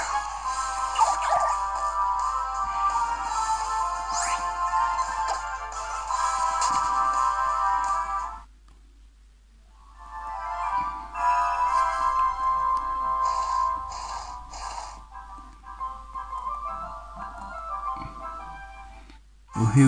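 A phone rings repeatedly in a melodic ringtone while Pokémon Y gameplay plays, the sound steady and fairly loud with a brief pause midway before resuming.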